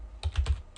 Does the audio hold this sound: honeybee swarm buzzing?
no